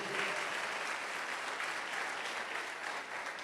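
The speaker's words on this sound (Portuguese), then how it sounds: "Pode aplaudir o rei, aleluia." A church congregation applauds during a Portuguese-language sermon on forgiveness, a steady, dense wash of clapping that holds at an even level from start to finish with no voices over it.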